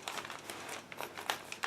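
A plastic bag holding 1/72 scale model kit sprues crinkles and rustles close by as it is opened, a dense run of crackling handling noise with sharper snaps throughout.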